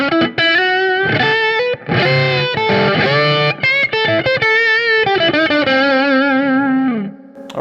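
Electric guitar played through an effects unit with reverb and some distortion and chorus, sounding loud and close as sustained notes and chords ring out and trail into reverb tails.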